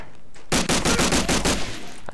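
Enemy machine-gun fire in the World War II shooter Medal of Honor Allied Assault, a rapid sustained burst of about a second and a half with evenly spaced shots, loud and close.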